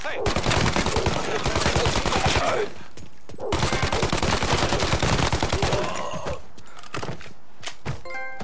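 Bursts of gunfire from the Mafia remake video game, two long rapid volleys of shots separated by a short pause, loud and dense, followed by quieter scattered sounds.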